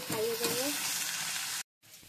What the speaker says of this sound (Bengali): দেখো উচ্ছার কুমড়ো ভাজা হচ্ছে